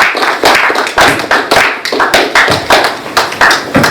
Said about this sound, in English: Please, can we give her a resounding round of applause as she makes her way to the podium.